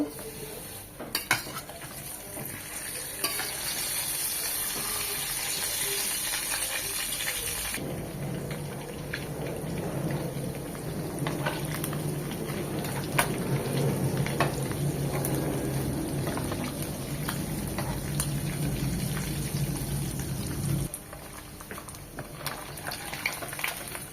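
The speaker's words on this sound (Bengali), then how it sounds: "এই তেলেই বাকি মাছগুলো ভেজে নেব।" Small khalshe fish fry in hot oil with a steady, dense sizzle lasting throughout, punctuated by scraping and clinks of a utensil against the pan.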